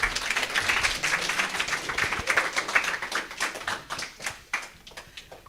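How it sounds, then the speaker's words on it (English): An audience applauds after a talk at a Heart & Stroke Foundation event in Antigua and Barbuda, with steady, moderately close clapping from many hands that tapers to scattered claps near the end. "Give Doc another round of applause."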